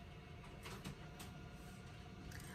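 Sewing machine running a wider zigzag stitch along the edge of stretchy knit fabric with a ballpoint needle, a steady mechanical whir with faint rhythmic clicks, moderately quiet and continuous with no talking.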